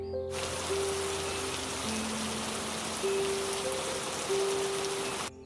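Steady storm rain pours down throughout, a dense continuous hiss with faint low tones underneath, stopping abruptly at the end.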